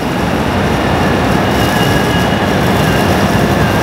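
A bullet train at Jeddah railway station, a loud continuous rumbling roar of the wheels running on the rails with a high squealing tone over it, close and steady.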